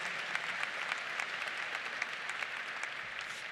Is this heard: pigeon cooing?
no